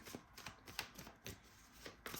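A deck of oracle cards being shuffled by hand at close range, giving a run of soft papery riffling bursts that rise and fall irregularly for a couple of seconds.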